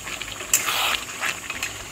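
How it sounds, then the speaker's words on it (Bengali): Hot water gushes into a pan of chicken curry where the oil has risen after long frying, a steady splashing pour with brief louder surges, close and moderately loud, with no voices. "এবার এর মধ্যে জল দিয়ে দেবো।"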